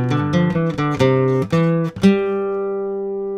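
Flamenco guitar plays a guajira falseta, a quick run of plucked, ringing notes for about two seconds before the last chord sustains and fades, loud and close with no talking.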